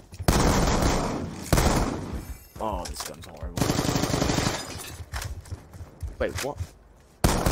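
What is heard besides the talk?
gunfire from video game Call of Duty: Black Ops 2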